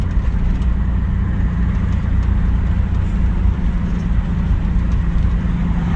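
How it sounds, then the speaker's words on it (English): A Chevrolet S10 pickup, back on the road after years of neglect, rumbles along at low speed with an unknown exhaust, a steady, loud, close engine-and-exhaust drone heard from inside the cab with no talking. "you can just listen to the sweet, sweet sound of whatever that exhaust is"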